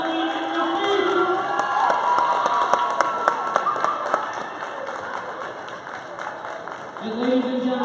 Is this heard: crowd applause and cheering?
yes